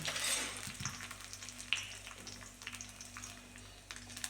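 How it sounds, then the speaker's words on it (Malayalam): Mustard seeds splutter and pop in hot oil for a tempering, a faint close crackle of scattered sharp pops over a soft sizzle, with no talking. "കടുവെല്ലാം പാങ്ങിൽ പൊട്ടിയിട്ട് വരുമ്പോൾ"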